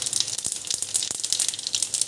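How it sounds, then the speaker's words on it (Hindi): Cumin and fennel seeds sizzle in a hot pan for Jodhpur-style onion kachori, a steady close crackling hiss with small pops throughout, no talking. "पैन गर्म हो गया है। अब इसमें मैं 1 चम्मच जीरा डाल रही हूँ। एक चम्मच सौंफ डाल रही हूँ।"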